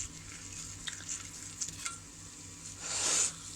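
Butter and flour roux sizzles softly in a pan with a steady, gentle crackle, broken by a few light stirring scrapes and a brief louder hiss near the end, with no voices over it.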